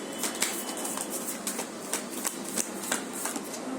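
Tarot cards being shuffled by hand, with soft papery riffles and flicks repeating at a steady pace, faint and close.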